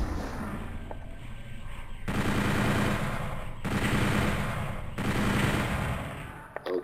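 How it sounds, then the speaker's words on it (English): Rocket launcher firing in the DOOM 64 video game on the Dark Citadel level, with repeated loud blasts and rumbling explosions swelling at roughly two-second intervals over a dense background of game noise. "Fire rocket."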